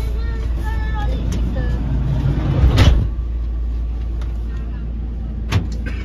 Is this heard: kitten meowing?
no